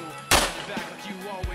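One sharp, loud handgun shot during night combat shooting practice at a target range, followed by a couple of fainter reports and echoes.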